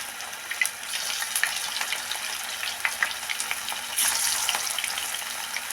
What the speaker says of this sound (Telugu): ఒక్కొక్క పీసుగా వేసుకుందామండి ఇలా వేసుకుంటే మనకు ముక్కలు అతుకోకుండా విడివిడిగా ఫ్రై అవుతాయండి